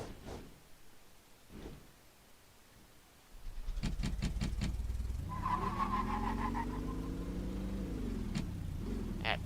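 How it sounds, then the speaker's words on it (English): A 3/4 ton pickup truck runs up to speed on a test track before braking from 40 mph, its engine rising and holding a loud steady drone as revs climb and shift, following a few quiet moments. "Now we're going to do our braking challenge without the trailers."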